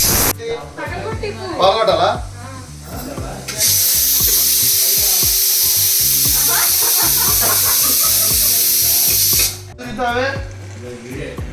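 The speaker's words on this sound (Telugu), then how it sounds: "ఈ ఆనియన్స్ అనేవి గోల్డెన్ బ్రౌన్ కలర్ వచ్చే వరకు ఫ్రై చేసుకోవాలి." Sliced onions and green chillies fry toward golden brown for a mutton dish, giving a loud, steady sizzle for about six seconds while a person talks over it.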